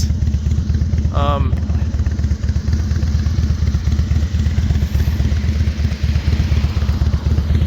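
A Harley-Davidson motorcycle rumbles on a cold ride in the low 40s with snow spitting, its engine a loud, close, steady throbbing beat that holds without letup throughout.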